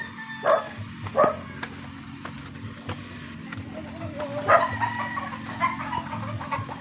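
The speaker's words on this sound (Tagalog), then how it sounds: "May aso dyan, Darwin." A dog barks a few times at moderate distance, with rooster calls and clucking chickens mixed in over an outdoor background.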